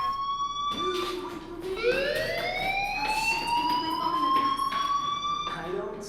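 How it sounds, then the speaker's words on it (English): A fire alarm in the video game Life is Strange wails with a rising, sustained siren-like tone that rings continuously throughout, loud and steady, with a brief burst of speech or game sound near the start. "do you hear that fire alarm?"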